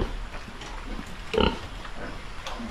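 Pigs on a farm, with a single short grunt close by over faint background rustling and farm ambience, no talking.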